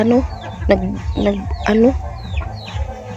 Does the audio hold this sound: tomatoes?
no